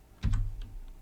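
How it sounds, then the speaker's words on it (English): A couple of quick keystrokes on a computer keyboard, close and soft clicks, followed by two fainter taps in a quiet room. "I'm going to backspace over the 150"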